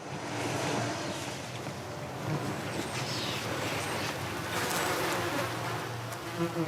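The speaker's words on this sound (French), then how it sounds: "Tu vois des dizaines et des dizaines et des dizaines d'abeilles, toutes en train de butiner un merveilleux plant de menthe en fleurs." Dozens of bees foraging on flowering mint in a Paris rooftop garden make a steady, dense buzzing hum that stays close and fairly loud throughout, with light wind in the background.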